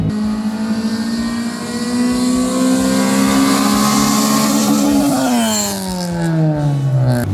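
Nissan Sentra B13 engine revs hard in gear, its pitch climbing toward about 6000 RPM, then falls away as the throttle lifts, loud and close with a steady droning roar.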